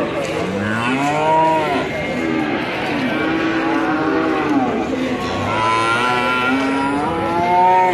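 Several cattle, including young calves, moo repeatedly at a busy livestock market, with overlapping long lowing calls rising and falling above a constant crowd and vehicle din.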